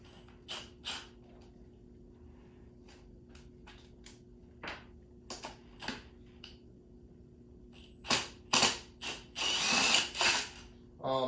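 Ratcheting GearWrench round-head Allen sockets on an Audi 4.2 engine: scattered sharp metallic clicks and short ratchet bursts, sparse at first, then a louder, denser run of ratcheting near the end, close up.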